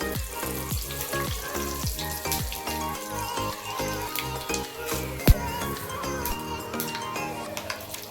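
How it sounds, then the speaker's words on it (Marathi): Dried red chillies, mustard seeds, cumin and fenugreek seeds crackle and sizzle loudly in hot oil, a continuous frying hiss with a few metal clinks from a pan. "तडक्यासाठी ना मी लाल मिरची घेतली आहे, मोहरी, जिरं आणि मेथीदाणे"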